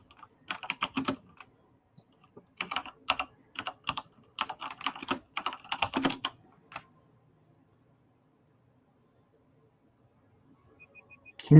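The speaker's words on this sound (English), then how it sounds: "Can you hear me typing?" Bursts of rapid keyboard typing, crisp clicks in quick clusters with short pauses, then quiet near the end.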